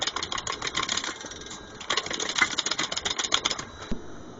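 Hydraulic jack on a pipe bender pumping in a steady rapid mechanical rhythm, a dense run of clicking strokes with a brief pause midway, close and moderately loud, no talking.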